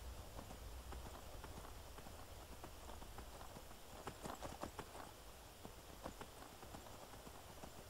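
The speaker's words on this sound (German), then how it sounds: "Wir reiten weiter." Hooves clip-clop rapidly as a horse gallops in the Skyrim video game, a steady quick rhythm of soft thuds under a faint game ambience.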